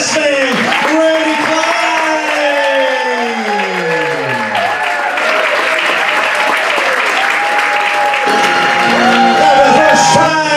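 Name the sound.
wedding guests applauding the matron of honor and best man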